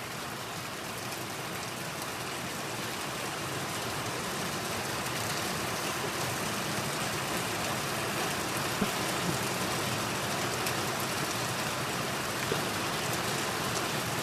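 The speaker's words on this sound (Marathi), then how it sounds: "आणि पाऊस कसला पडतोय बघा." Heavy rain pours steadily during a monsoon downpour, a dense, even hiss that holds at the same level throughout with no voices.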